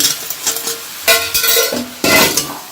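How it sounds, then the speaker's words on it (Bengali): Fried vegetables for navratan korma tipped into a spiced sauce in a pan, with loud bursts of sizzling and clattering as they land, then scraping stirs between the pours. "এইবার আমি এই নবরত্নগুলোর সব ভাজা সবজিগুলো সব আমি ঢেলে দেবো"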